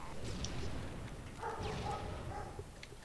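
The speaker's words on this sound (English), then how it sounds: "my dogs are barking now" Dogs bark and yip at a distance over a steady background rumble, with a few short barks scattered through the clip.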